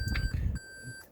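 A steady high electronic reversing warning beep sounding continuously inside a 2019 Toyota Prius Hybrid Limited, with low rumbling engine-like noise underneath for the first half.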